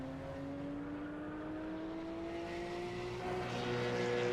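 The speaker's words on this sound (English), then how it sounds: "That is the Porsche. That's the sound of the Porsche." Porsche race car at Lime Rock circuit, engine note rising steadily as it approaches, heard from a distance with the pitch climbing and growing slightly louder toward the end.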